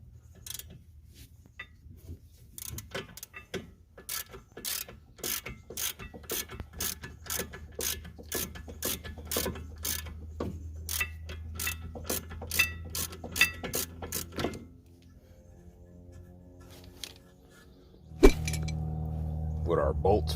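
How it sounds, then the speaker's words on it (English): Ratchet wrench loosening 14mm bolts on the rear spindle of a 2007 Scion tC: a long run of sharp, evenly spaced clicks close by, then the ratcheting stops and someone talks near the end. "Get our 14mm bolts off."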